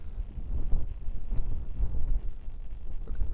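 Steady wind buffets the microphone outdoors during a wind test of a Hubsan X4 Air Pro H501A drone, a low rumbling gusty roar that swells and dips continuously without pause.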